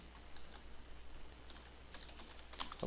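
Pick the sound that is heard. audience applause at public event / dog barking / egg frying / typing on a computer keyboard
typing on a computer keyboard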